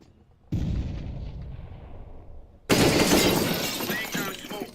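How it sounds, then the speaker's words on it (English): A grenade goes off in Counter-Strike: Global Offensive: a first muffled blast rumbles and fades, then a second louder explosion bursts with a sharp, shattering crack and rolling debris, close and loud with no talk. "Grenade out."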